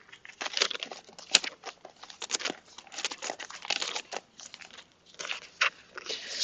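A write-in planner sticker is handled up close, giving quiet, irregular crinkling and rustling of paper and backing sheet in short bursts, with no speech.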